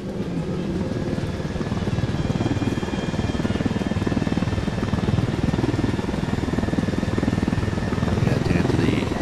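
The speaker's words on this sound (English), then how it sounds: "let's go ahead and steal this helicopter over here." A helicopter in the video game Ghost Recon Wildlands drones with loud, steady rotor chop and engine whine throughout, close and continuous, with players talking over it.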